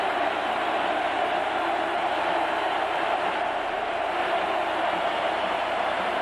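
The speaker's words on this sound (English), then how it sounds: "The crowd really gets into it." Home crowd at an Oregon Ducks college football stadium game against Arizona, a dense continuous roar of thousands of voices, loud and steady without breaks, heard from within the stands.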